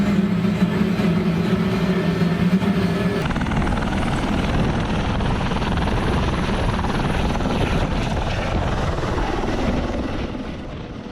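A helicopter's rotor chop and engine whine roar steadily and loudly throughout a flight over the craters of Mount Etna, Sicily, easing off slightly near the end.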